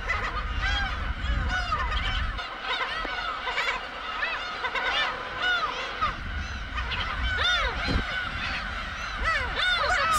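Black-tailed gull chicks and parents calling on a breeding cliff: a dense, continuous chorus of overlapping squealing, mewing cries from many birds, loud and near, with a low rumbling background.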